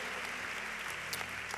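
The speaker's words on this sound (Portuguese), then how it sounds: "Dê uma salva de palmas a ele." Congregation applause during a sermon by a bishop at a church service, a dense, even burst of clapping with faint background music, steady and unbroken across the short stretch.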